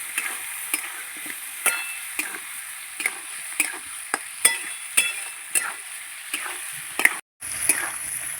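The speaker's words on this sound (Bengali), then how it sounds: "এবার কষাবো, মশলাটা দিয়ে আলুর সঙ্গে ভালো করে কষাবো।" Potatoes with salt, turmeric and spices fry in a pan while a spoon stirs them, giving regular scraping strokes about every half second over a quiet, steady sizzle, with no talking.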